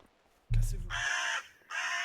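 Crows caw twice, loud and close, two harsh calls with a brief gap between them, and a thump sounds just before the first call.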